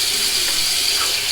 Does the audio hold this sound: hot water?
yes